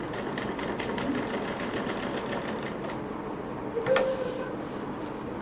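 A sewing machine stitches fabric piping onto a pouch, running steadily with a fast, even mechanical ticking rhythm throughout and a brief slight bump in loudness near the end.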